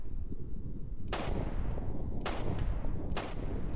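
A Colt pistol fires in GTA San Andreas Multiplayer: three sharp gunshots spaced about a second apart over a steady low background rumble.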